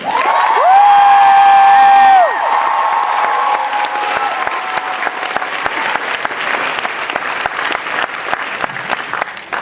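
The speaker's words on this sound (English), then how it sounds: "A real quick round of applause for the band" A convention crowd claps for the band at a fan panel, with loud sustained applause and some cheering after a brief tonal tone at the start, filling the room.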